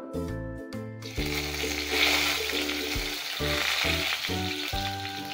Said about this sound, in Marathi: तेल तापलेलं आहे। आता याच्यामध्ये आपण टाकणार आहोत तमालपत्र